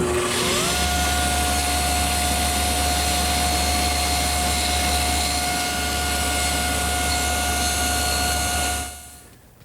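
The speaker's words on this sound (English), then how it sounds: "The easiest way to do that is over here at the table saw, where I'm going to hold it against my miter gauge and just spin it slowly into the" A table saw spins up and cuts a wooden tenon while the workpiece is fed slowly into the blade against a miter gauge. The whine is loud and steady for nearly nine seconds, then fades as the saw stops.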